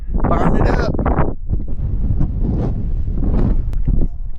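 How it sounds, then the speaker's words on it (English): Strong, cold wind blowing outdoors, buffeting the microphone in loud gusty rumbles that rise and fall throughout. "It's super windy today"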